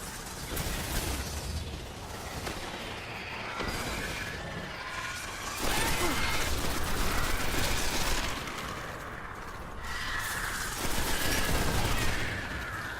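Bursts of gunfire from the video game Destiny, fought on the Moon, rattle in loud sustained volleys that swell and ease in waves over a constant background of combat noise.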